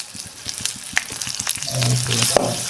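Herbs, roots and fruits frying in oil for an Ayurvedic medicated oil, a crackling sizzle with quick popping bursts and soft stirring taps, brief and close.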